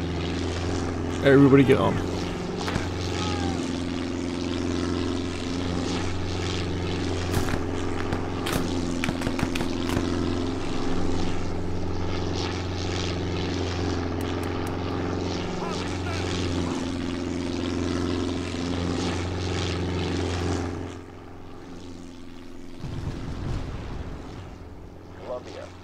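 A propeller aircraft engine drones steadily and loudly in the Arma 3 video game for about twenty seconds before cutting away, with brief radio-style talk over it and a few sharp bangs.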